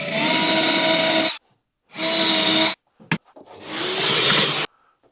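A power drill boring small pilot holes into wood in a workshop, three separate bursts: two steady runs of about a second and a half each, a brief stuttering blip, then a longer whirring run, close and loud with silence between.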